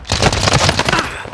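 A short, loud burst of rapid-fire video game gunfire rattles in quick succession.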